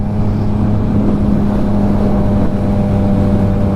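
Steady engine drone with a constant low hum and wind rush, like a motorcycle cruising along a road, loud and close throughout.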